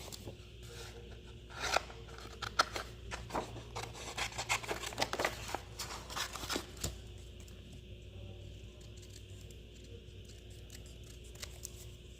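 Scissors cut out paper pieces in a few short bursts of close snipping and crisp rustling, then the sound settles into a quiet room hum.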